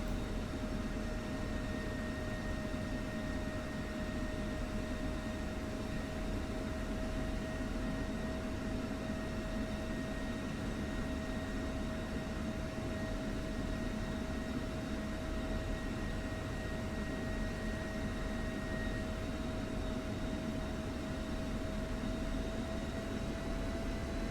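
An F-16 Viper jet taxiing in the DCS flight simulator game produces a constant, even engine hum with steady whining tones, unbroken throughout, with no talking.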